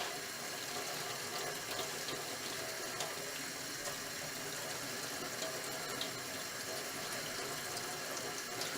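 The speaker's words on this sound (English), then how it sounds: "I'm just going to rinse it off." Tap water runs steadily into a sink as a makeup brush is rinsed under it, a continuous even hiss and splash, close but fairly soft, with no talk.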